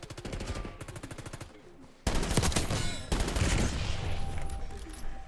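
Hipfire gunfire in Black Ops 6, rapid automatic bursts of shots in quick succession, loud and continuous with a brief gap, followed by more sustained firing and game effects.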